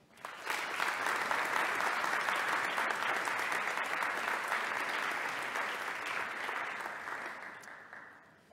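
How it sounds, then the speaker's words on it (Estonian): A large hall audience at a university academic ceremony applauds in a steady, even wave of clapping that holds level for several seconds, then tapers off at the end. "Saadame ka Hella Riisalule videovahendusel suure-suure aplausi TalTechi Virumaa kolledžisse."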